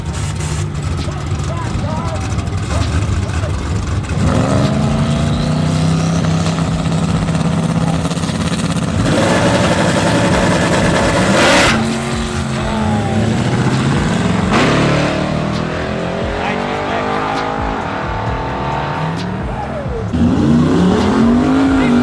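A truck engine revs hard and moves out, its loud rising roar dominating a busy outdoor scene, with shifting pitch as it accelerates and people talking over it.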